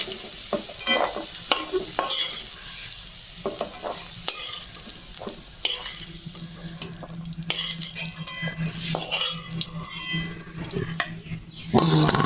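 Food fries in oil in a pan on a home stove, a crackling sizzle broken by stirring scrapes and clinks, close and fairly loud, with brief bursts of splashing.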